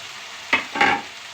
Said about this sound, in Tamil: கொஞ்சம் நல்லா வதங்கணும்.